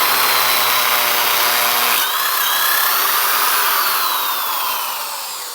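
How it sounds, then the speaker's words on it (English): A power drill with a larger bit bores into metal held in a vise, running loud and steady with a whine that shifts pitch partway through, then fading slightly toward the end. "now we're going to go up to our next size bit. I've used 2 drills for this"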